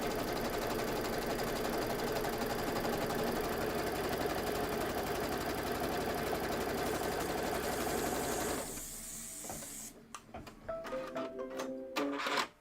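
A home embroidery machine stitches through batting and background fabric for a quilt block, running loud and steady with a fast mechanical rhythm for about eight seconds, then stopping and leaving a few faint clicks and handling sounds.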